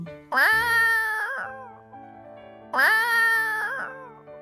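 A cat meows twice, long drawn-out wailing cries separated by a short pause, close and clear.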